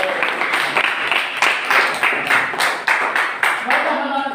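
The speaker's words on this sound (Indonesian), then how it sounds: "Tepuk tangan." Students in a classroom clap in a steady, fairly quick rhythm, a moderately loud burst of applause from a small group that carries on evenly throughout.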